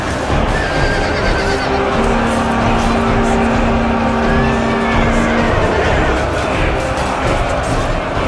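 Horses of a medieval cavalry charge in Medieval Kingdoms thunder in a dense, continuous roar of hooves and battle noise, with a horse's whinny rising briefly above the loud wash.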